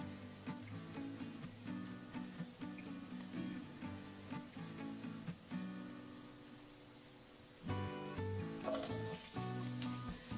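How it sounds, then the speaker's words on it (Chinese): Chopped scallions stir-fry in a little vegetable oil over low heat in a wok, giving a soft, steady sizzle that runs throughout beneath prominent background music. "我们另起锅，放入少量的植物油，加入少许的葱花，小火炒香"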